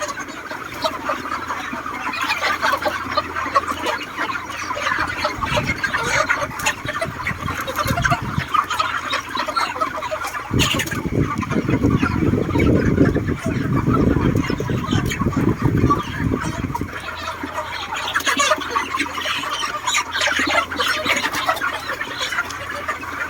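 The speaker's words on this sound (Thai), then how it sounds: "บรรยากาศในฟาร์มไก่นะครับ" A crowd of chickens fills a large poultry farm shed in Israel with continuous overlapping clucks and murmurs, loud and dense, swelling in the middle before settling back.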